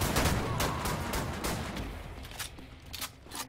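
Rapid, dense double-shotgun blasts in the shooter game Wolfenstein: The New Order, with loud overlapping bursts that fill the space and ease slightly toward the end, sounding alone with no voices.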